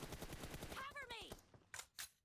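PUBG Mobile gunfire crackles in a rapid burst of shots beneath a player's voice, followed by two sharp separate pops after the talking stops.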